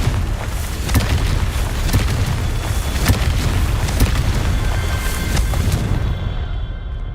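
Magical Confringo blasting spells go off in Hogwarts Legacy, producing a dense string of booming bursts and crackling impacts. Sharp hits land every second or so over a loud, continuous rumbling bed.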